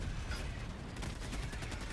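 Grenade blast in the Helldivers 2 video game, heard as a dense, steady roar of explosive rumble and crackling gunfire-like bursts filling the whole two seconds, with no voices over it.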